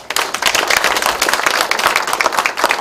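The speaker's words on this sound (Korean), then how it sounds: "우리 박수 한번 쳐주시죠" A short burst of clapping from an audience at a town residents' meeting, applauding the mayor and civil servants; dense, close hand claps of moderate size, loud and steady, with no talk over them.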